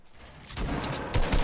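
Gunfire sounds out in a shooter video game, building from quiet into a dense, loud burst of rapid shots and booms over the final second, with no one talking.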